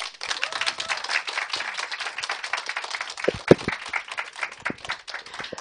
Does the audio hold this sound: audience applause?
yes